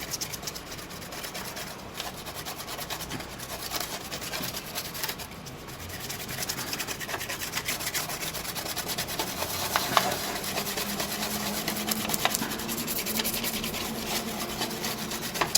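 Steady, close rubbing and scrubbing as isopropyl alcohol is spread across a Dell Inspiron 1525 laptop motherboard after a beer spill, a continuous dry brushing texture that runs on without pause.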